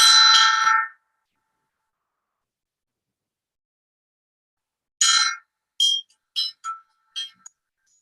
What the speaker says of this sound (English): This is from Nepal. It's kind of like a singing bowl, but it's a singing bell.